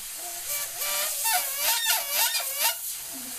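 An airbrush sprays paint on a skull design, letting out a warbling, honking squeal like a dying goose that rises and falls in several pulses over a soft hiss, with no talk.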